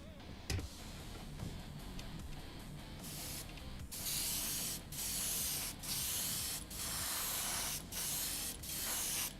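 An airbrush spraying paint onto a 1/16 scale Puma model hisses in a series of short, even spray bursts with brief pauses between them, after some faint clicking at the start.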